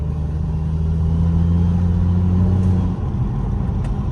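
A BMW F30 335i being driven, its steady engine drone and low road rumble close and continuous, with a change in engine note about three seconds in.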